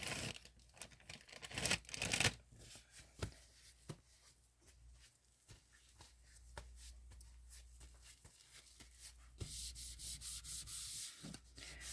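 Resin gingerbread house being sanded by hand, steady scratchy rubbing strokes in close, uneven bursts with brief pauses, with no voices.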